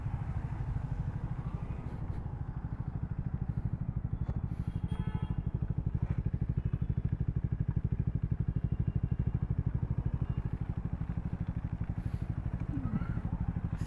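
A motorcycle engine keeps running steadily after the bike was hit from behind during heavy Mumbai monsoon rain, a continuous low drone with clattering and rain noise around it throughout.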